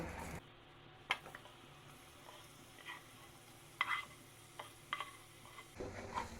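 Mashed hog plums being stirred in a frying pan for a sweet-sour-spicy pickle, over low flame after salt; faint sizzle with a few scraping clicks of the spoon, quiet and intermittent, no talk.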